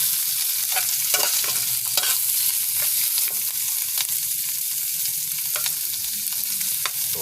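Small dried fish (tamban) sputter and crackle as they fry in oil in a pan, with a steady sizzle and scattered sharp pops and scraping stirs, heard up close and with no talking.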